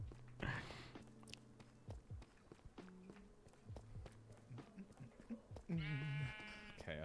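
Sheep bleat in the Minecraft video game, two loud wavering cries near the start and end, amid rapid pattering footsteps and shorter calls, with no talk.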